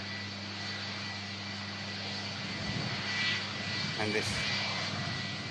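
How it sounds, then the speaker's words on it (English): A 34-year-old airliner with Rolls-Royce RB211 jet engines rolls along the runway at a plane-spotting site, a steady engine drone with a brief rise, while a voice talks over it. "RB211 sounding wonderful"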